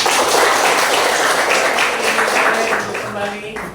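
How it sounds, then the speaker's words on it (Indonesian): Classroom group applause after singing the Indonesian national anthem, loud steady clapping that slowly fades toward the end, with voices mixed in. "Ya, tepuk tangan semua ya"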